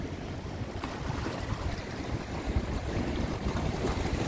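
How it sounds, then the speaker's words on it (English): Surf washes onto the beach at Puerto Rico, Gran Canaria, in a continuous broadband rush of waves mixed with gusting wind noise on the microphone, with no voices. "This is the beach of Puerto Rico in Gran Canaria."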